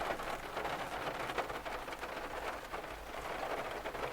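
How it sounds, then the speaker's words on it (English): Rain drums steadily on a parked car, a dense even patter heard from inside with a low rumble underneath and no speech. "as you can tell, it's raining"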